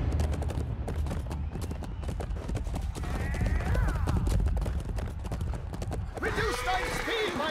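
Rapid clip-clop of a horse galloping in the medieval combat game Chivalry 2, close and busy amid battle noise, with a sharp whinny near the end and shouting voices mixed in.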